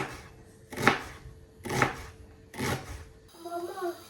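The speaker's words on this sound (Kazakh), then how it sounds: "Енді осылай ұсақтап турап аламыз" A knife chops onion finely on a board in three distinct bursts of rapid cuts, close and fairly loud, followed by a brief softer rustle at the end.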